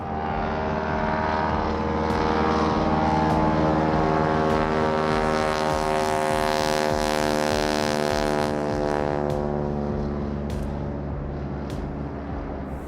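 A small floatplane's propeller engine roars up to takeoff power on a lake in the South Chilcotin Mountains, a loud, steady droning hum with a rising pitch that holds strong, then eases slightly as the plane climbs away.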